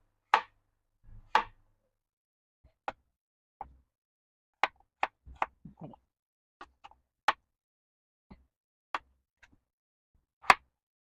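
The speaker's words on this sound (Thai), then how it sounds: "ก็จะหั่นให้มันชิ้นเล็กๆ ค่ะเพื่อน ๆ เพราะว่ามันจะได้สุกเร็ว ๆ นะ" Sporadic knife chops on a cutting board as potatoes are cut into small pieces, irregular and fairly close, with quiet gaps between cuts.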